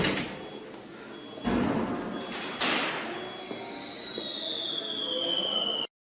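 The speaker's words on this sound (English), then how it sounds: "Somebody put fireworks in the truck." Fireworks going off inside a truck in a city street scene, with two sharp bangs followed by crackling and a high whistling tone that slides downward, fairly faint.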